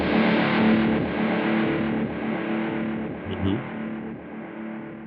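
An electric guitar chord played through a Kemper Profiler with a single-repeat serial delay rings out loud and distorted, sustaining and slowly decaying with a muddy echo over several seconds.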